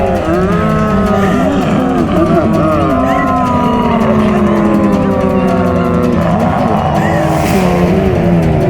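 A car speeds away in a horror drama scene, its engine roaring with rising and falling pitch while voices and eerie sounds play around it.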